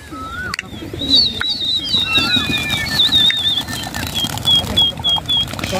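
Pigeons coo among high chirps outdoors at a pigeon flying competition, repeating over a busy, noisy background.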